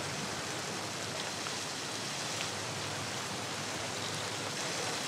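Steady, dense rain falling, a constant broadband wash of drops with no pauses, fairly loud and close.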